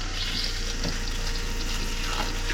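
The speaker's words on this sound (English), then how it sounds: "And there we got some fresh drinking water coming out." Fresh drinking water gushes from the hose of a 12-volt caravan pump drawing on a DIY filter, a steady loud rushing flow close up that never changes, with no voices.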